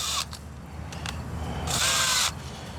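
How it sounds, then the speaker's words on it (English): A power drill with a dull bit bores through sheet metal in short bursts, a loud, close, high-pitched whine that cuts in, stops, then grinds longer. "my drill situation's that sad to where I actually have to step it 3 times just to get through a piece of"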